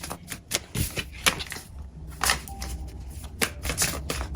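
A deck of oracle cards is shuffled by hand close by, with crisp riffling bursts and light taps in an uneven rhythm.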